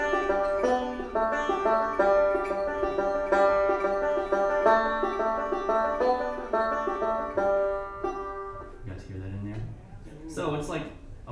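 Bluegrass banjo picking the melody of Hot Cross Buns through steady forward-roll patterns, a bright, dense stream of plucked notes played close and evenly, fading into a few looser notes near the end.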